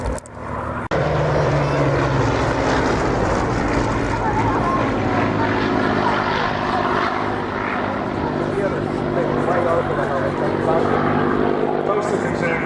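A restored Spitfire and Sea Hurricane flying together in formation, their piston engines producing a loud, steady, continuous drone that holds throughout after a brief abrupt start, with no talk over it.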